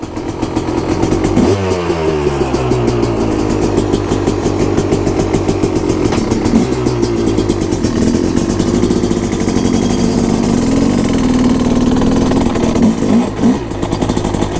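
KTM 250SX two-stroke dirt bike fires up in the desert and revs, then runs close and loud with rapid buzzing, rising and falling throttle blips throughout, no speech.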